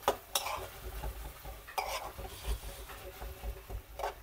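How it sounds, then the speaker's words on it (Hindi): Tomatoes and minced keema being stirred and fried in a pan for aloo qeema, heard as rough scraping strokes of a spoon against the pan with a few sharp clinks over a soft frying hiss. "टमाटर ऐड करने के बाद इसको हम अच्छे से"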